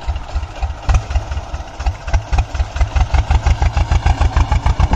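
An antique T25 tractor engine chugs steadily while pulling a nine-tine tiller, its rapid, even low thumps close and loud throughout without any talk.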